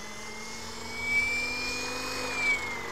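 A Tron 7.0 RC helicopter spools up on the ground, giving a steady whine that rises slightly in pitch over a low motor hum, fairly quiet and continuous with no talk.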